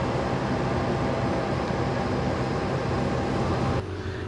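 Steady, loud rumble of the Sancaka passenger train at Madiun station, a dense continuous roar that holds for several seconds before dropping off slightly near the end, with no voices.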